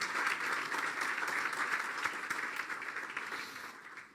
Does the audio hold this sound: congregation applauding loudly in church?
yes